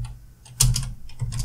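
A few quick clicks on a computer keyboard as a command is typed in Windows, close and crisp, with a short pause before a tight burst of keystrokes; no voices.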